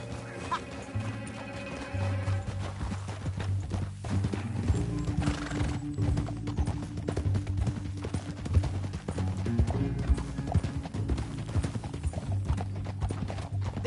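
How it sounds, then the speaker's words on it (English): Rhythmic hoofbeats of a horse in Red Dead Redemption 2 clip-clop steadily at a gallop, with the horse whinnying, over a low background hum and faint clucking. "Back on your horse"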